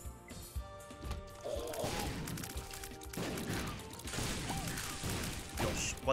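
Repeated crashing explosions and debris impacts from a video game, dense and loud, overlapping in quick succession.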